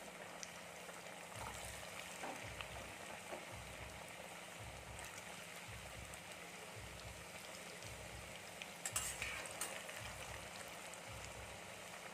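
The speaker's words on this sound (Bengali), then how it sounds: "চলুন বন্ধুরা, এটাকে আমরা ব্রাউন কালার করে ভেজে নিই" Patties frying in hot oil in a wok over a gas flame, a steady close bubbling sizzle with soft crackles that holds constant throughout, accompanied by a low rhythmic pulsing hum from the burner beneath.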